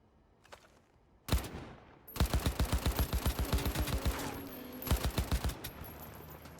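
Rapid automatic gunfire in Cyberpunk 2077, a single sharp shot followed by a long run of loud, evenly spaced bursts, a brief pause, then a final short volley.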